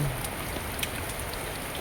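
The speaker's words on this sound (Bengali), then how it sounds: "এই সুন্দর একটি দুপুরবেলা দেখতে পাচ্ছ, বৃষ্টি শুরু হয়ে গেছে।" Steady afternoon rain falls as a dense, even hiss of drops on surfaces, close and continuous with no talk.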